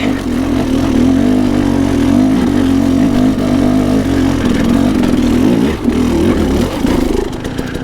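A KTM 300 two-stroke dirt bike with a 38mm billet smart carb lugs at low revs through sloppy mud and rocky hill climbs, its engine a loud, steady, close-up drone with no talking.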